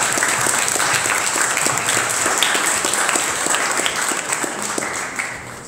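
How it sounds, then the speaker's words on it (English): An audience at a software conference in Cluj-Napoca, Romania, gives sustained applause, a dense steady patter of many hands that holds for several seconds and then thins slightly toward the end. "we owe these folks a big round of applause for throwing a great conference"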